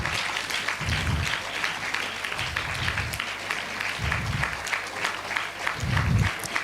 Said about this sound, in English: Can we all have a big round of applause to them